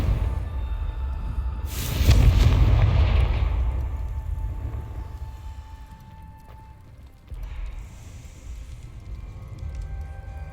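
A Confringo fire spell bursts in Hogwarts Legacy, a loud booming blast that swells and rumbles before slowly fading, followed by a quieter secondary burst.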